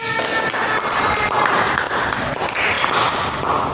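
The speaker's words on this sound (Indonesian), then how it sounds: "tepuk tangan untuk Mama" A class breaks into brief, lively applause for a mother, with scattered overlapping claps running continuously for a few seconds.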